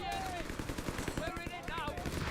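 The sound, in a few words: Jaeger squad slowing rifle fire from video game Company of Heroes 3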